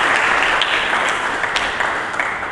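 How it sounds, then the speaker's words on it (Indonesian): Congregation applauding in a church, a dense steady wash of many hands clapping for about two and a half seconds, fairly loud and close, with no voices over it. "Mari kita berikan tepuk tangan bagi Yesus Kristus."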